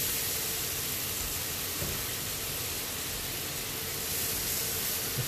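Three tablespoons of butter melt in a hot pan for KFC-style gravy, giving a dense, even sizzle and hiss that holds steady and close for a few seconds.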